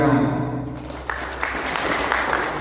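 An audience at a regional regulation enforcement gathering in Demak breaks into applause after a voice briefly speaks, the clapping swelling to a steady dense wash.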